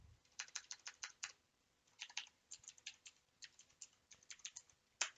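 Quick clusters of computer keyboard keystrokes tap out in bursts with short pauses, close and fairly quiet, ending on a sharper single key press.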